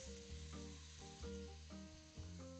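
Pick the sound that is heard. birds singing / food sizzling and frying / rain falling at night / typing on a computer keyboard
food sizzling and frying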